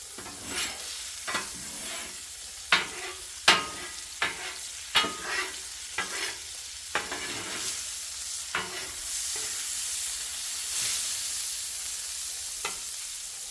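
Ingredients sizzle and fry in hot bacon fat for fried rice, with a steady crackling hiss and a series of sharp spatula scrapes and stirring knocks against the pan, busier early on and then settling into continuous sizzling.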